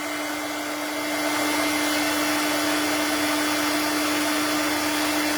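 A heat tool warming stamped craft paper blows a steady, loud whirring rush with a low motor hum, swelling slightly after the first second and then holding constant.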